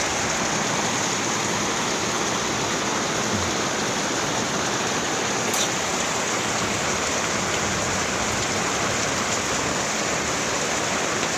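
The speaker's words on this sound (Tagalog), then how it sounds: "Kaganyan lang ulan." Heavy rain pours steadily and loudly, a dense continuous roar of water with no voices, holding even throughout.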